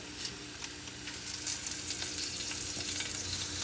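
Garlic fries on an indoor grill, a steady faint sizzle with light crackles and occasional scraping touches, close but quiet, with no talking.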